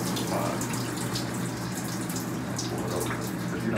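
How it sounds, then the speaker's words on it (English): Water poured from a pot over a person's body in a shower-style spiritual cleanse, a continuous close splashing gush that runs loud and steady throughout without a break. "Just give yourself a shower with the pot."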